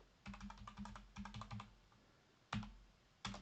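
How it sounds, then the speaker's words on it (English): Fingers type on a computer keyboard in quick, quiet bursts of clicking keystrokes. A few sharper isolated taps follow after the rapid runs. "My typing is atrocious, so sorry about that."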